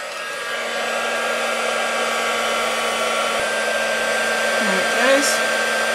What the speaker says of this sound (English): And then I'm just going to take my heat tool